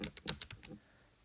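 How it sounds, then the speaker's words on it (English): Keys pressed on a graphing calculator, a quick run of about six light, close clicks and taps over roughly three quarters of a second, then quiet. "I type that in exactly with the parentheses"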